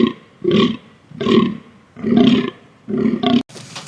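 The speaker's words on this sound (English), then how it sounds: "It is a fallow deer." Fallow deer call: five deep, rough, belching groans spaced about every half second, loud and close with no other sounds, then a short hiss at the end.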